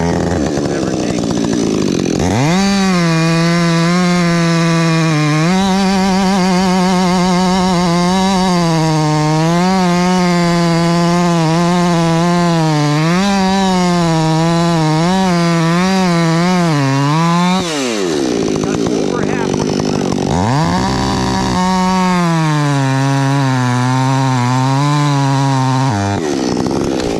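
Chainsaw felling timber above young trees, its engine revving loud and close in long sustained cuts with pitch wavering under load, dropping briefly near the end before revving up again for a final stretch.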